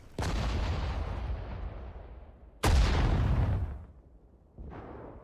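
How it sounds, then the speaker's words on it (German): Artillery guns firing in the Sudden Strike 4 war video game: three booming cannon blasts, each a sharp loud crack followed by a long rumbling decay, the third softer and more distant. "Feuert aus allen Rohren!"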